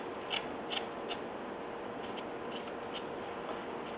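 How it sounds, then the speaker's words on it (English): A carving knife takes paring cuts into wood for a cowboy figure, giving faint, quick scraping ticks in an irregular rhythm, close but quiet, with no talking. "Here's the paring cut that I'm using right here."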